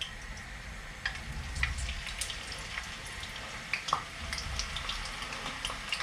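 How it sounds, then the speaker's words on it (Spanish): A piece of potato frying in hot oil in a pan, a continuous crackling sizzle with scattered sharp pops and spits, close and fairly loud, with no talking. "ya está empezando la patatita a moverse, a formar espumita, o sea que el aceite está idóneo para freír todo lo demás"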